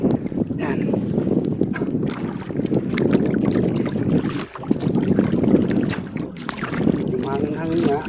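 Strong wind out at sea buffets the microphone with loud, uneven gusts and rumble, while people talk over it.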